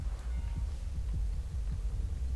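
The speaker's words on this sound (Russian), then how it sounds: "А почему у меня сердце бьется" Slow, steady heartbeat thumps pulse low and muffled under a droning hum, the terror radius warning from the video game Dead by Daylight, several beats repeating evenly with no talk.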